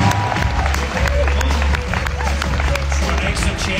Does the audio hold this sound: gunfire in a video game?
no